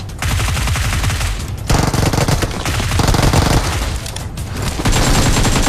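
Rapid automatic gunfire in the mobile battle-royale game PUBG Mobile, loud and close, with dense bursts running almost continuously and only brief gaps between volleys, and no talking.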